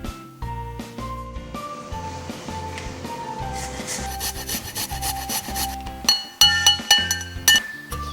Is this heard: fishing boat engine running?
no